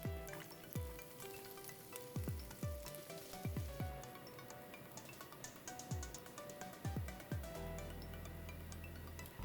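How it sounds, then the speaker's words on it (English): Sliced yellow onions sizzle steadily in a hot frying pan, with a few sharp clinks and taps from stirring scattered throughout; no talking. "I have some sliced yellow onion here and I'm frying it up."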